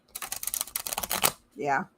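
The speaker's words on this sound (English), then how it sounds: "I'm going to try to riffle this." A thick deck of cards is riffle shuffled, a rapid close flutter of card edges for over a second, followed by a brief soft bridging whoosh.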